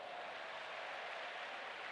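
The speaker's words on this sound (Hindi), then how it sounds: "तालियां बजाओ।" Audience applause at a religious gathering, a steady wash of clapping from a crowd that holds evenly for a couple of seconds with no voices on top.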